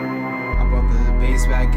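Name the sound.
bells in a beat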